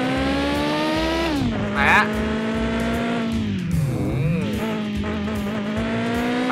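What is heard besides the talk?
car engine revving and accelerating in the video game Mon Bazou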